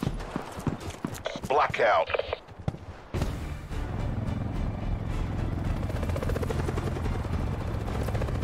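A helicopter in Call of Duty Black Ops 4 Blackout mode thumps with a steady rotor chop after a stretch of mixed game sounds, and someone talks intermittently over it.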